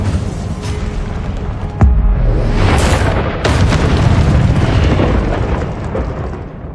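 An Incendio fire spell being cast in the video game Hogwarts Legacy, a loud whooshing burst of flame followed by a rumbling roar and crackling bursts that stay heavy throughout.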